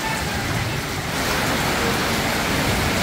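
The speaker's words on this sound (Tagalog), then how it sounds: "ay! Ang lakas ng ulan po." Heavy rain pours down steadily with gusting wind, a dense constant roar that stays loud and unbroken throughout, with no clear speech over it.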